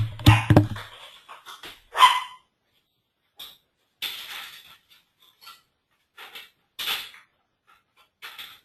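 A dog being let out of a house: thumps and a door sound at the start, then scattered short scuffles, clicks and faint dog noises separated by silence, fairly close.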